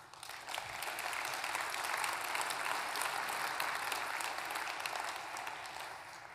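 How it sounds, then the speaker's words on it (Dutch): Conference audience applauding after a speech by the chair of a Dutch secondary-education council, steady dense clapping that swells in and holds at an even level throughout, with no voices over it. "En daar mag je best even voor klappen."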